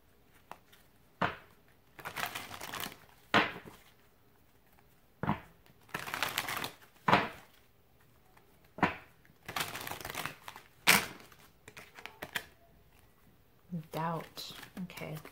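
Tarot cards rustle, slide and snap as soul journey cards are shuffled and drawn during a reading. The handling comes in a dozen short, sharp bursts with quiet gaps between them, close to the microphone, and a voice briefly joins near the end.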